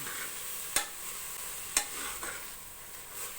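Sprouted horse gram frying in a tempering for a saaru: a steady soft sizzle with two sharp stirring clicks and a few lighter scrapes, close and without talk.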